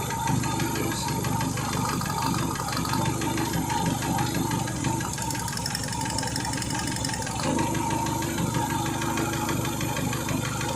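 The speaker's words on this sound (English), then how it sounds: "That misfire could be coming from there." Renault Megane 2 petrol engine idling with a misfire, a steady close-up mechanical drone with an uneven, stumbling pulse and brief dips in the rhythm, no voices over it.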